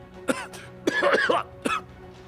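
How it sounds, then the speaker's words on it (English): A few harsh, wet coughs in quick succession as a man coughs up water after CPR, close up, with a brief sputtering burst in the middle. "begins coughing up water"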